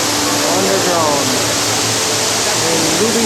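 Underground waterfall at Ruby Falls in Chattanooga, Tennessee, roaring as a loud, steady broadband rush that fills the cave with continuous noise, with some faint voices mixed under it.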